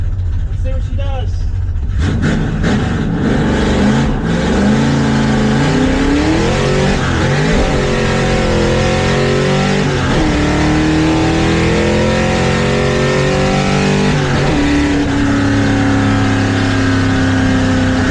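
A 1971 Plymouth Satellite accelerates hard from a start on a drag strip, a loud close engine roar climbing through several gear changes with brief drops and rises in pitch.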